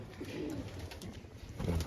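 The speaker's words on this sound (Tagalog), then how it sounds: "Pero mukha naman maayos lahat ng ibon natin dito." Pigeons coo in a breeding loft, a low, soft burbling that swells near the start and again louder at the end, over a steady background hiss with no talking.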